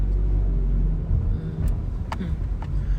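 A BMW car rolls past nearby, a low steady engine and road rumble that holds loud throughout, with a few brief sharp clicks near the end.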